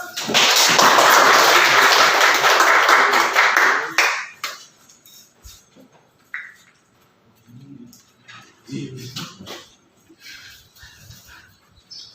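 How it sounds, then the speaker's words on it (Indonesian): A classroom of students claps in a dense, loud burst of applause lasting about four seconds, then falls quiet, with a teacher speaking faintly afterward. "Mari kita kasih aplaus"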